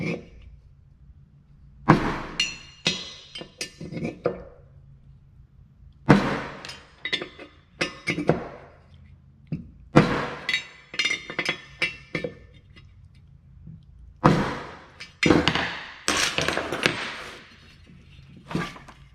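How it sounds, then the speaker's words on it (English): A hammer taps a locating punch into the head bolt holes of an engine gasket sheet, giving sharp metallic clinks in irregular clusters with short pauses between them. No one talks. "I'm going to tap the center in each one of the head bolt holes"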